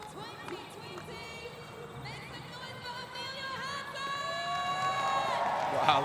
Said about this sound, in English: Wow, listen to the crowd.